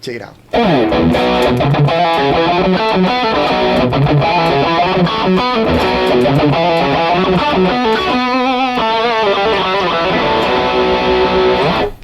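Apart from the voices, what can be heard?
electric guitar through Gokko Salem Boost pedal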